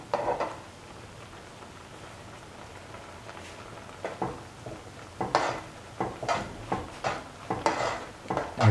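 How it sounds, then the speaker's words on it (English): A winter melon coconut stew with black-eyed beans being stirred in a pot: soft scraping and clinking strokes against the pot, coming in a loose rhythm over a quiet background hiss, close and faint. "stir and let the mixture thicken. Keep on stirring."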